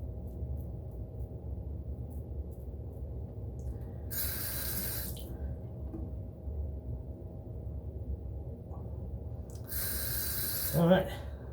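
A sink tap runs briefly twice while a razor is rinsed after shaving, each burst of running water short and moderately loud against a quiet room with a low hum.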